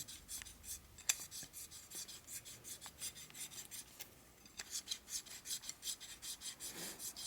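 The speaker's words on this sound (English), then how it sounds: "Lapping does take a while." Hand lapping a part for a 1941 Harley-Davidson WLD 45 flathead stroker engine build, a steady series of fine rasping strokes in an even back-and-forth rhythm, fairly quiet and close, with no talking.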